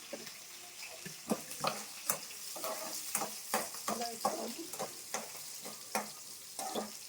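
Green chilies stirred and frying in a pan, with a steady bright sizzle broken by repeated scraping stirs at an irregular rhythm, close and clear with no talking.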